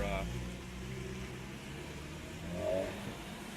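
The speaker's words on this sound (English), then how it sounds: "some noisy cars went by" A low, steady traffic rumble as a car passes, its engine hum swelling slightly toward the end; quiet and somewhat distant.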